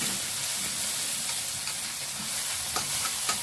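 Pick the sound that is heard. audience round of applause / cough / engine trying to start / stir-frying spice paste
stir-frying spice paste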